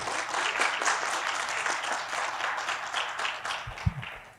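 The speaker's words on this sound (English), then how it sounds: "I would like to conclude with a big round of applause to all my panel members." A conference audience applauds panel members at the close of a session, giving a steady round of many hands clapping in a large room. The clapping stays even, then thins out toward the end, with no talking.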